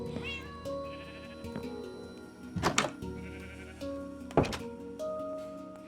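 Sheep in the Minecraft video game bleat in a handful of short, wavering calls spread over several seconds, two of them louder and closer, over a quiet in-game background with no talk.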